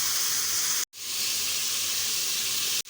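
Mutton for yakhni frying in a pan gives a loud, steady, close hiss of steam and sizzle, broken by two brief near-silent cuts.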